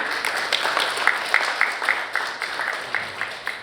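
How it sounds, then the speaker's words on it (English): A room full of people at a policy forum gives a warm round of applause, a steady wash of clapping with regular sharper hand claps standing out. "can we fill this room with a warm round of applause to acknowledge everyone's presence here today?"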